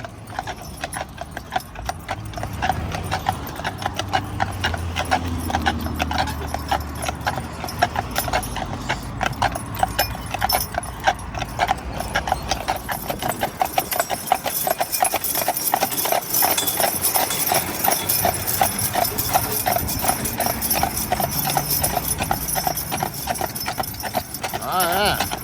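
Draft horses' hooves clip-clop in a steady, brisk rhythm on hard ground throughout, with faint jingling and background noise that suggest a town setting.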